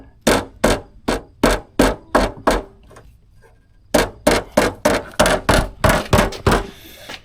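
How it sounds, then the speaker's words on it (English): A hammer pounds on the underside of a Harmar horse trailer in two quick runs of loud, evenly spaced metallic blows, about a dozen strikes with a short pause between the runs. "she takes her hammer and she pounds up on the bottom side."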